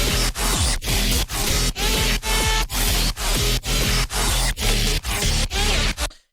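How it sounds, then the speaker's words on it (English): Two songs mashed together without added drums, a dense, loud electronic mix that pulses in regular surges with short dips between, alone with no talking. "originally the two songs together just sound like this without my drums on it"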